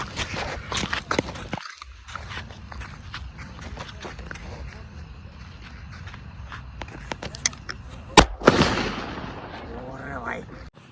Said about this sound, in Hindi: छोटा पैकेट बड़ा धमाका बुलेट। इसकी टेस्टिंग करके आपको दिखाएंगे।